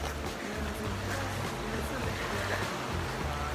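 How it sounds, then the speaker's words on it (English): Rushing water from a bubbling brook near Flagstaff, a steady broadband wash heard up close throughout, with voices talking over it. "We've made it to the Bubbling Brook!"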